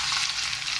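A whole fish dusted in starch pan-frying in a wok, a brief steady sizzle with a bright crackling hiss and no speech.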